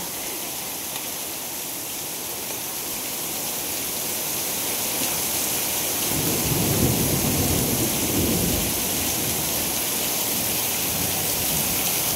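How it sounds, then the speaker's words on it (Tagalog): Steady rain pours down while a deep roll of thunder rumbles in partway through, swelling and fading over several seconds. "Grandpa, Little Inday, afraid to the thunder."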